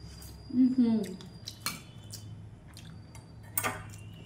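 Cutlery and dishes clink during a meal while prawns are served, with a few sharp taps and scrapes spread across the moment and a brief low vocal sound near the start.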